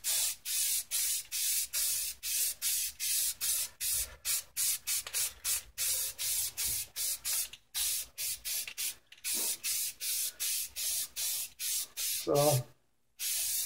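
A spray paint can laying a coat on decal covers for a Cushman, heard as a rapid series of short hissing bursts in a steady rhythm, close and fairly loud, with a brief word spoken near the end.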